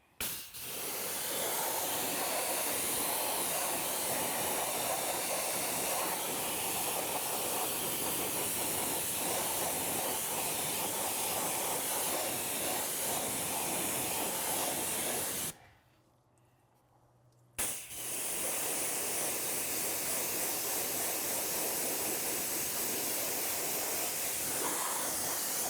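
Water spray rinses wheel cleaner off a car wheel as a loud, steady hiss that runs for about fifteen seconds, stops briefly, then resumes, with no talking.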